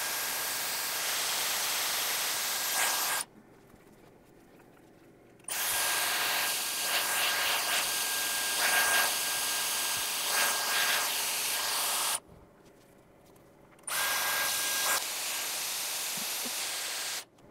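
A Dyson Airwrap hair styler blows air steadily while curling short hair, a loud broadband whoosh that cuts out twice for a couple of seconds as the styler is switched off and back on.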